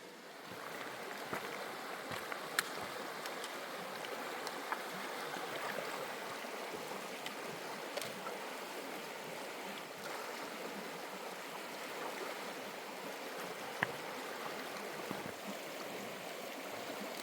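A flowing stream, the west branch of the Piscataquis River, crossed on the Appalachian Trail: steady broadband rushing water, close and continuous throughout with no talk over it.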